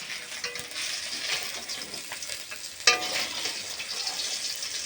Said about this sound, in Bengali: দেখো মাছটা ভাজা কত সুন্দর হয়েছে